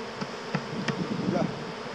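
Dense buzzing of honey bees swarming around an opened hive, a steady close drone with a few louder wingbeat passes for two seconds.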